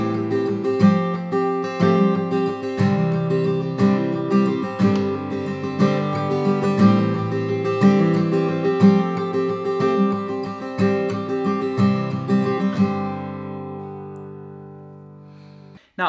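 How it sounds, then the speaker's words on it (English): Steady, rhythmic guitar strumming with added hammer-on and pull-off notes embellishing the chords, played continuously for about thirteen seconds before the last chord rings out and fades. "One cool thing that you can do with the strumming, you can add a lot of embellishment and a lot of additional notes to the chord."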